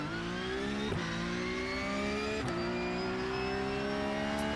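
A Porsche Cup race car in the iRacing sim accelerating during qualifying, its engine note climbing steadily through the gears with brief dips at each upshift, loud and continuous with no talk.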